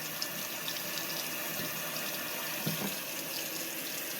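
Tap water runs from a sink faucet over a wet reborn baby doll, a continuous hissing splash close by with occasional soft knocks and gurgles.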